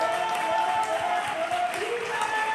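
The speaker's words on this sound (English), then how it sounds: "Keep that applause going." Audience at a poetry slam applauding, a dense continuous wash of clapping and crowd noise that stays level and loud throughout, with a faint voice underneath.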